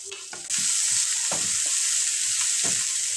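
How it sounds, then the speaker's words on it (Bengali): Mixed vegetables fry over medium heat in a pan for veg pasta, a loud continuous sizzle that begins abruptly and holds steady, broken by a few soft knocks and scrapes of stirring. "সবজিগুলো আমি মিডিয়াম আঁচে ভেজে নেব।"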